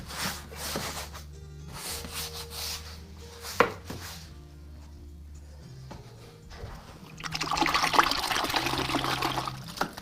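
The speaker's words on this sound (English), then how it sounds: "5-gallon bucket of water down here at by my right foot that allows me to swish brushes really quickly" Paintbrushes swished and rinsed in a 5-gallon bucket of water at an artist's feet while painting abstracts, giving close sloshing and trickling splashes in short bursts and then a longer, louder wash of churning water near the end.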